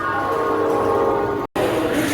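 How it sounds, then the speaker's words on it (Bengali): Panskura local train of South Eastern Railway departing Howrah station: a loud, steady rumble of the moving train with tonal horn-like bands, continuous apart from a brief cut near the end. "7:52 সময় আমাদের এই পাঁশকুড়া লোকাল হাওড়া থেকে ছেড়ে যাচ্ছে"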